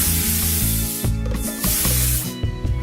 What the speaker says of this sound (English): just spray. I'm just using Morrison's hairspray.